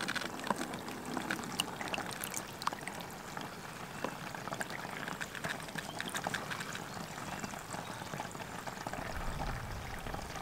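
Water pours and trickles steadily through the tiers of a GreenStalk vertical garden planter, making a continuous close splashing with scattered drips, and no one speaks.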